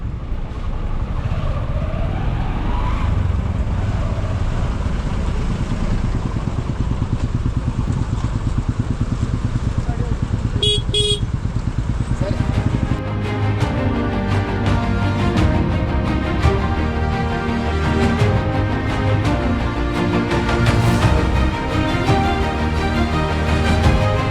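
Busy Sultanpur street traffic with motorcycles and cars, a constant loud engine drone close by, a brief horn-like tone partway through, then a thicker, busier mix of engines and tonal noise toward the end.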